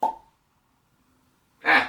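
A cork is pulled from a bottle of cask-strength peated Highland whisky, aged 18 years, with a short pop at the start and a second, louder burst of sound near the end, both alone in quiet.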